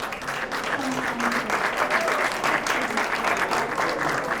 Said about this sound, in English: Teachers are hardly ever given applause and given what they deserve